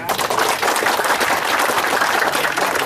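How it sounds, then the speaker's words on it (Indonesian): Audience at a social welfare fund handover event breaks into loud, dense, sustained clapping throughout. "Ya, tepuk tangan semuanya."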